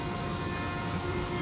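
A room air conditioner runs beside a closed CNC router enclosure, giving a steady, even whooshing hum with no variation or voices over a brief stretch.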